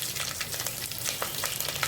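A tempering of spices sizzles in hot oil in a pan, a steady crackling fry scattered with small pops, close and moderately loud, with no talking.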